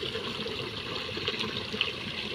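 Water flows steadily from a canal into an irrigation channel beside a basmati rice field, with a continuous gurgling rush, a constant outdoor wash of sound.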